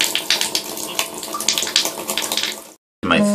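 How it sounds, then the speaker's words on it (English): Water running from a Delta faucet valve with weak flow: a steady splashing hiss of water into a basin, fairly close, that cuts off briefly near the end before restarting. "not even a lot of water is coming to the bottom here."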